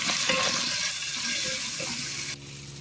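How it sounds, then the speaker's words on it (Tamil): Onion and tomato sautéing in a pan give a continuous, fairly loud frying hiss with some soft stirring movement, which eases slightly toward the end. "தக்காளி சேர்த்து நல்லா வதக்கி விட்டுக்கலாம்"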